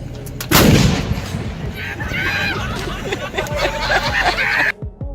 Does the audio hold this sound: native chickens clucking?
no